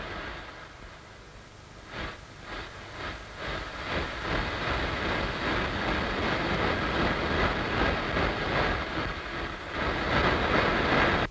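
A passenger train runs on rails with a steady rumbling roar and faint rhythmic clicks, moderately loud and continuous.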